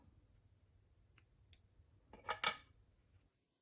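A couple of soft snips and clicks as scissors trim off a yarn end on a small stuffed craft ornament, close and quiet in a still room.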